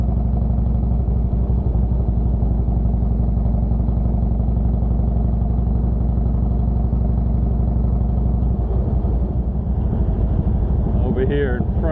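Motorcycle ride around Belle Isle in Detroit, the engine droning loud and steady with heavy wind rumble throughout, a brief shift in tone near the end.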